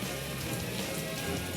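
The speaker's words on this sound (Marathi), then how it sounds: "वादळी वाऱ्यासह मुसळधार पाऊस बरसला" Heavy monsoon rain falls with strong gusty wind in Yeola, Maharashtra, as a dense, even, hissing wash of sound. The burst is short and steady, with no voices.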